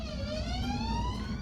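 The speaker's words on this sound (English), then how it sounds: "That's a siren." A siren passes on the road outside, with a faint rising wail heard indoors over a low rumble of traffic.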